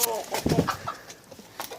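Agitated chicken clucking and squawking up close after a rooster fight, a few quick bursts mixed with rustling and some background noise.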